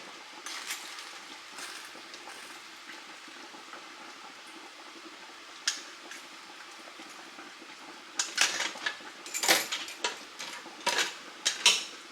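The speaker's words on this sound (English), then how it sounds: "Now I am gonna take out the crab legs because they're done, and we're gonna throw them in there." Cooked crab legs lifted out of a seafood boil pot, with metallic clinks and clattering of tongs against the pot that grow busier and louder toward the end, over a faint bubbling background.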